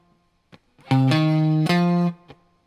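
A distorted electric guitar plays two long, sustained chords with a few short muted plucks before and after, loud and upfront with an effected, chorused tone.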